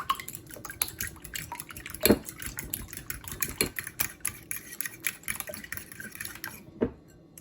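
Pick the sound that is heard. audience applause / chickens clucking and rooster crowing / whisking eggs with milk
whisking eggs with milk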